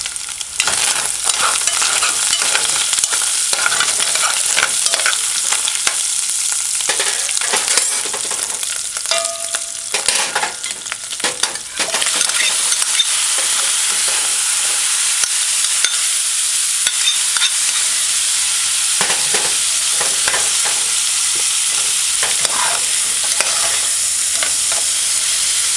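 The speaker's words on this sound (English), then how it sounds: "Just allow it to fry for about 30 seconds and then stir it." Onions frying in a pot and being stirred give a steady, loud, close hiss and sizzle with scraping stirs throughout, with no voice.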